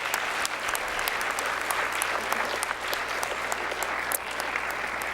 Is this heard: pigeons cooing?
no